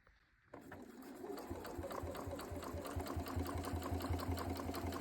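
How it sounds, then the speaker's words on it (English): A sewing machine runs a quarter-inch seam around a fabric bowl cozy, starting after a brief pause and then stitching in a quick, even mechanical chatter, close and steady throughout. "you're going to do 1/4 of an inch seam all the way around"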